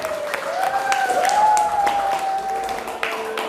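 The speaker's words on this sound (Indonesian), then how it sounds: "Tepuk tangan untuk kita semua." Schoolchildren in a classroom clap in a scattered, uneven round while a sustained high voice and a teacher's voice sound over the clapping.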